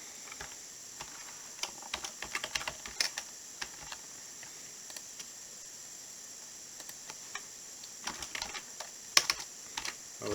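Steady clatter of computer keyboard typing while registration details are entered on a website, irregular bursts of light keystrokes close by over a faint background hiss, no talking.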